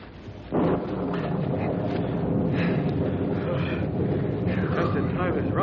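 A thunderstorm breaks with a sudden deep rumble of thunder that swells and then settles into a sustained, heavy roar like rain and rolling thunder, loud and continuous.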